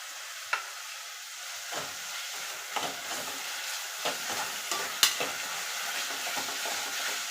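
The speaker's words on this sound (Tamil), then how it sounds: "தக்காளி நல்லா வதங்கி வரணும், அது வரைக்கும் வதக்கிக்கிட்டே இருப்போம்" Tomatoes and curd sauté in a pan, giving a low, soft sizzle under repeated scraping stirs from a spoon, with sharper clicks where it knocks the pan, heard close and alone.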